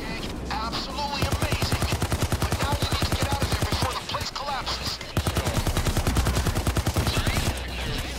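A minigun in Payday 2 roars in long, rapid, evenly spaced bursts, loud and close, pausing briefly mid-way before spinning up again.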